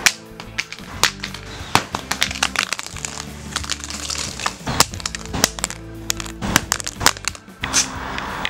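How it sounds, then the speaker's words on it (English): A Samsung Galaxy Note 8 phone dropped over and over, giving a rapid run of sharp cracking impacts and clattering knocks, loud and close with no talk. "Let's drop it a few more times."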